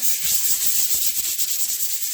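Fine 220-grit sandpaper rubs lightly over painted kitchen cabinet doors, a close, steady hiss of quick back-and-forth strokes with no talking.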